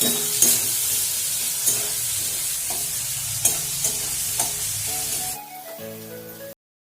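Chopped garlic and onion for a ridge gourd curry crackle in hot oil with a steady, close sizzle and occasional light stirring taps, the sound thinning just before it cuts off abruptly.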